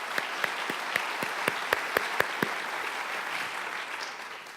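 An audience at a high school senior awards ceremony claps for national semifinalists and finalists, a steady wash of moderate applause with one nearby person's sharp, rhythmic claps standing out over the first half.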